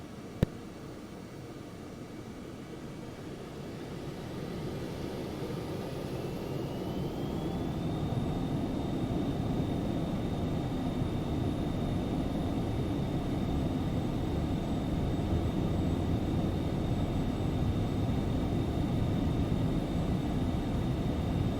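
A Phenom 300 business jet rolls down runway 29 on takeoff, its engine roar loud and steady, building gradually with a rising whine as speed increases, and no talking.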